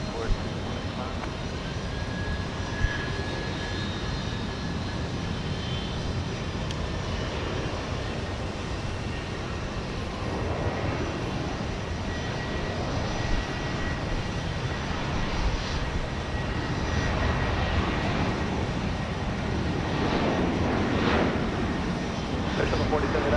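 Jet airliner taking off from runway 15 left at Houston Intercontinental, a steady broad engine roar running throughout at moderate distance, with a thin high tone early on and radio chatter faintly underneath.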